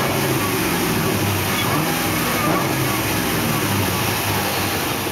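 A 2011 Berger Camaro engine runs steadily with a loud, rumbling exhaust, holding a constant drone throughout with broadband roar and little rise or fall in pitch.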